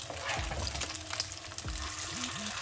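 Homemade chicken meatballs sizzle steadily in a frying pan, a close, constant crackle with occasional soft clinks and shifting as they cook.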